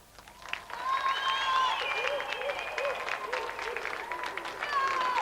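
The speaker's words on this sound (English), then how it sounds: "Round of applause for Aaron." A studio audience at a 1993 TV video-game show applauds, a moderately loud burst of clapping and cheering that swells and carries on for several seconds.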